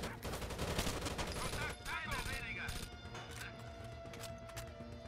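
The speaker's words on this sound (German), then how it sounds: "ich knall sie ab" Gunfire in the tactical shooter Rainbow Six Vegas 2, bursts of rapid shots and a fusillade over game sounds, loudest early on and then lighter, with a voice talking over the action.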